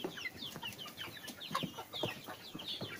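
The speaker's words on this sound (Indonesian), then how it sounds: "Ini yang betina semua." Arab chicken hens, all females kept together, cluck and chirp in a busy overlapping chorus of short calls, moderately near and fairly quiet.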